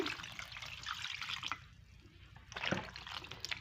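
Salted eggplant slices rinsed under a running kitchen tap, a steady close splash and trickle of water with louder bursts as the pieces are moved in the stream.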